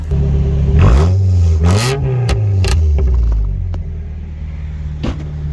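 A turbocharged 4G93 engine in a Mitsubishi Lancer being revved during an exhaust fit-up: a close, loud idle rises into two quick throttle blips, then a sharp rev, before settling back to a rumbling idle.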